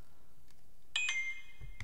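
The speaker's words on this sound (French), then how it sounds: "Je vais couper tout de suite la sonnerie" A mobile phone ringtone sounds indoors during a quiet tabletop craft demonstration: a short, bright electronic tone with two close chiming pulses, fairly soft and alone, followed by a faint bump.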